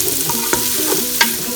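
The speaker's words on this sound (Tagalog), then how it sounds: "marami po akong maglagay ng panggisa, bawang sibuyas at luya" Garlic, onion and ginger sautéing in a pan for Kapampangan papaitan, a steady sizzle broken by a few sharp scrapes of a stirring spoon against the pan.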